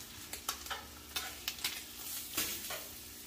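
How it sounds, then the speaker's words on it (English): A ribeye steak sears on a Blackstone griddle, giving a continuous hiss broken by a series of sharp crackles and spits. No one speaks. "Get a good sear on it."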